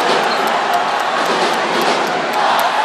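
Basketball fans boo inside an arena during a La Salle versus Ateneo college game, a loud, sustained crowd roar filling the space without a break.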